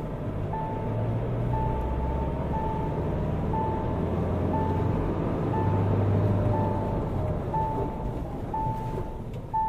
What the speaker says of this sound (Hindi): और अभी हम टेस्ट ड्राइव के लिए जा रहे हैं